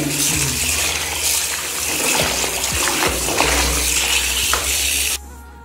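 Water sloshing and splashing continuously as a motorcycle riding jacket is scrubbed and rinsed, with occasional soft knocks, ending abruptly.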